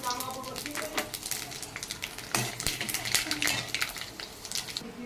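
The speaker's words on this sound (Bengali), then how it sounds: "এবার এর ভিতরে দিয়ে দিচ্ছে দেখুন 5 ফোড়ন।" Panch phoron, a Bengali five-spice mix, crackling and sizzling in hot oil with occasional utensil scrapes, moderately quiet beneath a person talking nearby.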